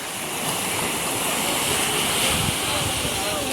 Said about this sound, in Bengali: এটা হচ্ছে মোহনা।